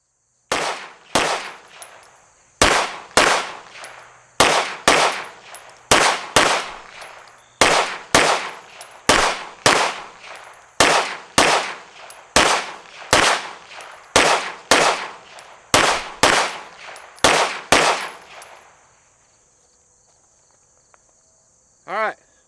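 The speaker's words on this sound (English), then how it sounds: "We're going to fire 2 rounds into the A zone of each target" Pistol shots fired in spaced pairs at USPSA targets with an ADE red dot sight, about twenty sharp loud cracks in a steady double-tap rhythm, each with a brief ringing tail, then quiet.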